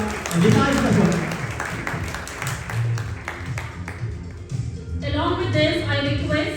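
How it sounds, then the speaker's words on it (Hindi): Applause at an Indian awards ceremony rises as a crowd clapping texture underneath someone speaking over a microphone, with music and voices filling the room toward the end. "So a huge round of applause for"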